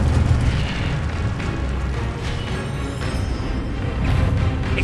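An Incendio fire spell is cast in the video game Hogwarts Legacy, giving a dense, loud, rumbling burst of fiery whooshes and booms that runs unbroken and swells again near the end.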